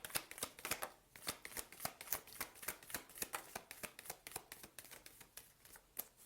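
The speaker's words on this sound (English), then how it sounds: "one more shuffle and I'll show you all the cards" Tarot cards riffle and slap in a quick, steady rhythm of repeated shuffles, close and crisp, with no talking.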